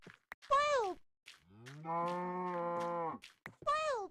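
A cow in the video game Minecraft moos several times: two short, bending calls around a longer, sustained low moo, each clear and close with no talking between them.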